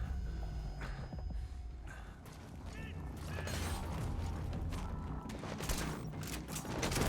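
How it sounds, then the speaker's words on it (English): Gunfire from the video game Metal Gear Solid V rattles in irregular clusters of shots with mechanical clicks and scattered game sounds, moderately loud and continuing throughout. "That dude mag dumps like a champ."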